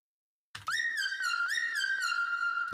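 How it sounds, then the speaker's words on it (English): A distorted, gritty whistle-like synth lead inside a beat, holding a bright sustained tone with rhythmic wavering pitch bends and hits, loud and continuous after a short silence. "So you see the dirty whistle and it just sounds like this."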